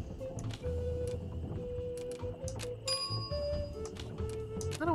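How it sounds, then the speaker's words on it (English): A bell rung in a point-and-click adventure game, bright ringing tones sounding over a steady background of game music and ambience, with a final chiming flourish at the end. "Let's ring the bell."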